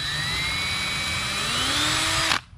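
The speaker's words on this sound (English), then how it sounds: "Pre-drill one screw." A power drill pre-drills a screw hole while a Larson storm door is mounted on a greenhouse, running steadily and close for over two seconds, its pitch rising slightly before it cuts off abruptly.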